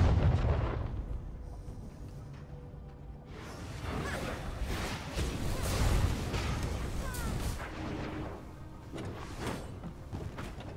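Bombs going off during a V Rising raid, a series of heavy booming blasts and rumbling bursts that rise and fall over several seconds, loud and close, with some talk faintly mixed in.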